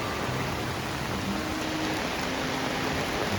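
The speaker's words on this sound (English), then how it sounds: "After days of hot, sunny weather, we finally get some rain." Steady rain falls outdoors after days of hot, sunny weather, a constant even hiss of moderate loudness with no voices.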